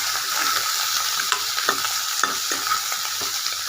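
Tomatoes frying in a pan with mustard seeds, fennel and curry leaves for sambar, a steady hiss of sizzling oil broken by occasional scrapes and taps of a stirring spoon, heard up close without speech.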